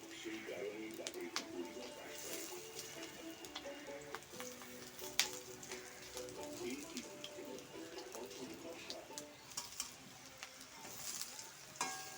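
Masoor dal fritters (bora) frying in hot oil crackle and spit steadily in a busy, continuous sizzle with sharp pops throughout, and a faint voice sits in the background.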